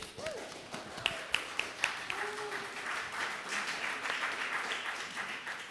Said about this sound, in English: I think a round of applause for its 100th year.